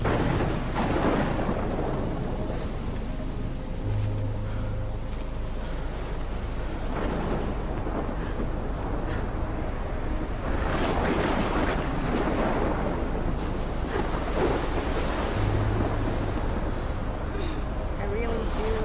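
Stormy weather in the video game Life is Strange, with steady heavy rain and gusting wind under rolling rumbles of thunder, a dense loud wash that never lets up.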